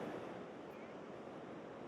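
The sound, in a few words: Pacific Ocean waves on the Oregon coast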